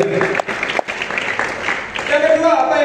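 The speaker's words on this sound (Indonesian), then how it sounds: "Kasih tepuk tangan lagi." A church congregation applauding during a sermon service, steady clapping from a crowd, with a speaker's voice over it.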